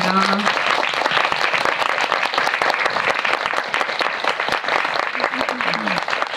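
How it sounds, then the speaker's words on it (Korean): A cinema audience at a Korean film talk event applauds as actress Jeon Do-yeon and director Kim Yong-hoon arrive, with dense, sustained clapping throughout and a host's voice faintly mixed in. "큰 박수로 맞이해주세요"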